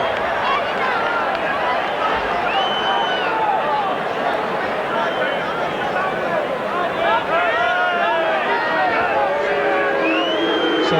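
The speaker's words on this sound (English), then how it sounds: "So Carl Fairbank getting the boos of the crowd." Rugby league crowd at a Wigan versus Bradford match booing player Carl Fairbank after a high tackle, a dense, steady roar of jeers and whistles filling the stadium throughout with no clear pauses.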